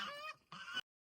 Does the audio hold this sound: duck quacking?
yes